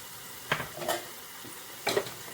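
Potatoes added to a pan for a sode pulao dish, a soft sizzle of frying with a few short scraping stirs and a light clink of utensil on pan, quiet and close in a home kitchen.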